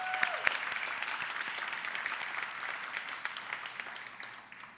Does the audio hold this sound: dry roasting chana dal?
no